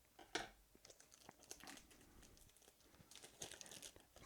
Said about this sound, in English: Got my trusty scissors right here, and we're going to open that up just like that.